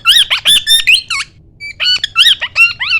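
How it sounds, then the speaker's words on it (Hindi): A plum-headed parakeet gives loud, close, shrill squawks in quick bursts, pausing briefly midway before resuming a rapid series of harsh calls. "मैं अभी दिखाता हूँ आपको कि मेरा पैरेट कैसा है"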